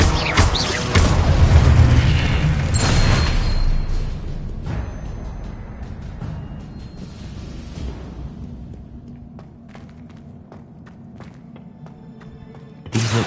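Incendio and Confringo spells in Hogwarts Legacy go off in booming bursts, strongest near the start, then fade into lighter thuds and scattered footsteps during a magical duel.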